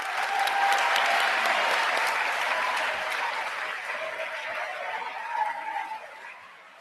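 A large crowd at a conference opening plenary applauds steadily, loud and dense at first, then gradually thinning and fading out toward the end.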